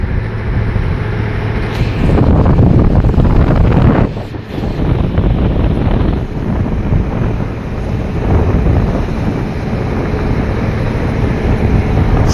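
Strong northeast monsoon wind buffets a boat at sea off Dinagat Island, a loud continuous roar of wind against the microphone with surging gusts and a brief lull, no voices.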